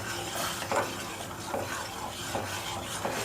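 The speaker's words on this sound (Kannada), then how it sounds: "ಚೆನ್ನಾಗಿ ಮಿಕ್ಸ್ ಮಾಡಿಕೊಡಿ" A spoon stirs sugar syrup boiling in a pan for rusk halva, making rhythmic, repeated scraping sweeps roughly every second over a soft bubbling hiss, close by and with no talk.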